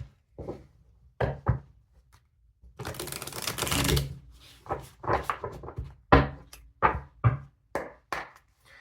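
Tarot cards being handled and shuffled, a series of close, sharp riffling bursts and taps with a longer flutter in the middle, and no talk.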